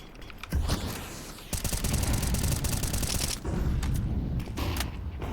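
M4 rifle fire during a Counter-Strike esports match, several rapid automatic bursts with sharp repeated cracks, loud and close, separated by brief gaps.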